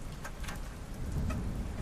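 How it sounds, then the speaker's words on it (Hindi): Steady rain falls at night over a muddy road travelled by a rickshaw, a continuous even hiss with no voices and a slightly heavier wash in the second half. "लगातार बारिश हो रही है"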